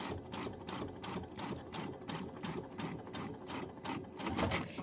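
Sewing machine stitching with a magnetic guide while finishing a quilted project, a rapid, even run of needle clicks and motor whir, close and quiet.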